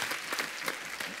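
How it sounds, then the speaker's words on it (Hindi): Studio audience at a Kapil comedy show applauding guests as they arrive, a dense steady clatter of many hands clapping at once, lively and sustained across the whole moment. "एक बार जोरदार तालियां हमारे मेहमानों के लिए"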